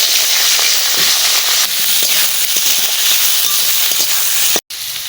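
Curry leaves and potatoes hit hot oil in a home kitchen, giving a loud, continuous sizzle dotted with sharp crackles and spits, close and steady with a brief dropout near the end.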